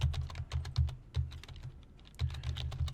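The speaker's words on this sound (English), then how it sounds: "Kind of tough to type." Keys clattering on a computer keyboard in quick uneven bursts with short pauses, close and fairly quiet, no voices.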